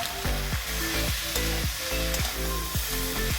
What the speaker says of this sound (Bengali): লবণটা দিয়ে আবারও চারিদিকটা নেড়ে দিলাম।